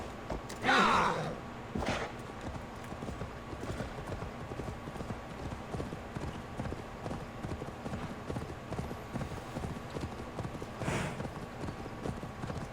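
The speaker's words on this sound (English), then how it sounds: "we'll summon the horse" Horse hooves in the video game Assassin's Creed Valhalla clip-clop in a steady galloping rhythm, fairly quiet, with a few louder thuds and a brief horse snort near the start.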